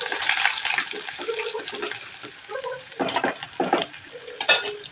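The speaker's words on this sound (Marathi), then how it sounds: "छान असं आपण फ्राय करून घेऊयात." Green chili and garlic stirred in a hot pan: a sizzling hiss mixed with scraping spoon and clinking metal cookware, close and irregular, no talking.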